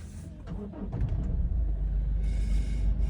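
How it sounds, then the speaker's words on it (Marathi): Interior of a Toyota Fortuner being driven, a steady low engine and road rumble with brief bits of talk at the start. "लय दिवसांची गाडी चालवतोय"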